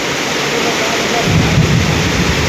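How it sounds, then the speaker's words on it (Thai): Heavy Thai rainstorm pours down in a loud, dense hiss, with a low rumble of thunder swelling about halfway through and rolling on to the end. "ในที่สุดว่าฝนก็เป็นใจให้คอยตกลงมา"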